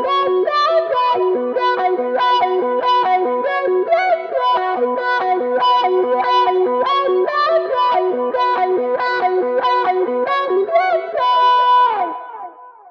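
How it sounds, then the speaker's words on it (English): A distorted electric guitar from a Rodent drive runs through a Cry Clyde wah, plucked in a fast, steady run of bright, filtered notes with a sweeping, vocal tone that rings out and fades at the end. "engage the crying Clyde wah and hear how it filters the distorted signal from the rodent drive"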